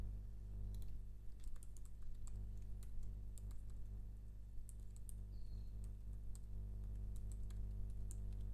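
Quiet typing on a computer keyboard while logging in, with light scattered key clicks tapping irregularly over a steady low hum, with no talking.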